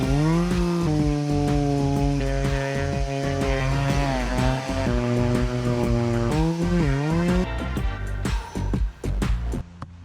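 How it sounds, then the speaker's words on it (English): A chainsaw, probably, cutting through tree stumps outdoors in humid weather, its engine loud and close and revving up and down in repeated surges that bog and recover for the full stretch, with no talking. "Can someone teach me how to use the chainsaw, please?"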